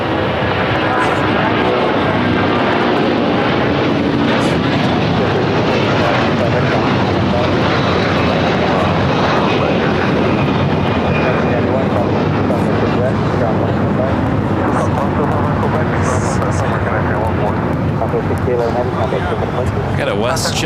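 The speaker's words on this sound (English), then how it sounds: "Got a WestJet flight coming from Winnipeg, 737 MAX 8, now crossing over 25 right." A WestJet Boeing 737 MAX 8 crosses a runway at LAX amid loud, continuous jet engine roar and airport noise, with voices talking over it.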